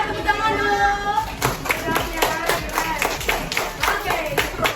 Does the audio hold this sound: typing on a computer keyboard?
no